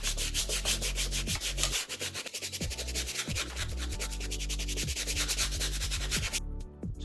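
A brush scrubs a yellowed shoe sole with rapid back-and-forth strokes, a dense, close rasping that runs continuously and cuts off just before the end.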